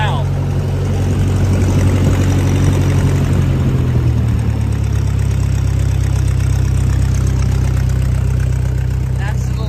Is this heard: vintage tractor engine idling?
yes